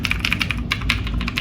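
Rapid clicky keystrokes on a mechanical keyboard with Cherry MX Blue switches, a steady run of sharp taps close to the mic with no talking.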